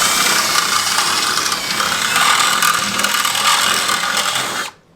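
An M6 rivet nut is set with a power tool on a fuel system install, a loud, continuous whirring ratchet-like grind running for several seconds before cutting off abruptly.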